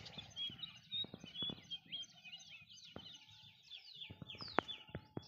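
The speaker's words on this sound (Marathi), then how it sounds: "त्या आंब्या झाडावर माकडं, पक्षी नाद करते काय." Birds calling from a mango tree on a farm: repeated chirps, whistles and clucking calls at varying distances, with a few sharp louder notes against a quiet outdoor background.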